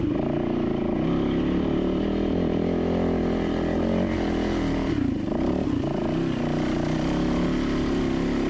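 Off-road motorcycle engine on a rocky trail in the Rubicon, droning steadily and loudly up close for the whole stretch, with a brief dip and surge midway as more throttle is given.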